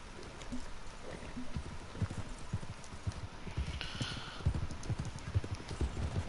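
Rhythmic hoofbeats of a galloping horse in the video game Red Dead, steady and fairly close, thudding repeatedly for several seconds over a soft background hiss.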